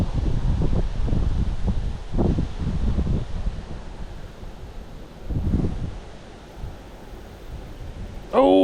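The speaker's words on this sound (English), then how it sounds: "Oh, come on, wind." Wind blowing outdoors by a fishing spot, gusty rumbling buffets that swell and fade against the microphone, loudest at first and easing off, with a brief sharp noise at the very end.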